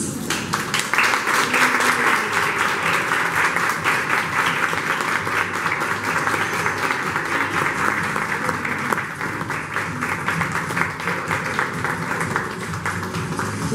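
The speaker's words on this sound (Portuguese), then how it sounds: "Vamos recebê-los com palmas" Sustained, dense applause fills a graduation ceremony hall as ninth-grade graduates are welcomed, a steady crowd of clapping hands holding at full strength for nearly fourteen seconds, with no talking over it.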